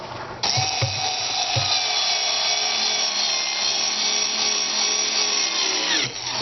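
A power drill drives screws into wooden boards in a long steady whine lasting several seconds, preceded by a few short trigger bursts, close and loud with no talk.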